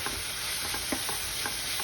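Mint paste mixture frying in a pan for mint rice, a constant sizzle with repeated soft scraping strokes as it is stirred.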